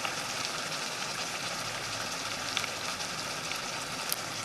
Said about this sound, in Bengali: মশলাটা খুব সুন্দরভাবে ভেজে নেব